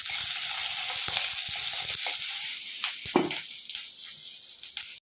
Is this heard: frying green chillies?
yes